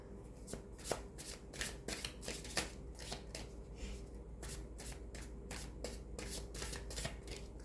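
Tarot cards are shuffled close up in quick, crisp riffling bursts that repeat at a steady pace for the whole stretch, with no one talking.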